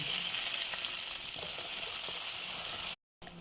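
Onion sizzling in hot oil with garlic and ginger paste, a steady close frying hiss with small crackles throughout, cutting out briefly near the end.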